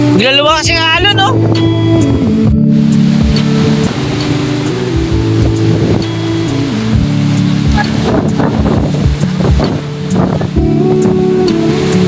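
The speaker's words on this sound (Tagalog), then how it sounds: "Grabe, ang lakas ng alon dito." Strong sea waves pound the shore ahead of an approaching storm, a constant loud roar mixed with heavy wind buffeting the microphone. Voices talk and call out over the surf.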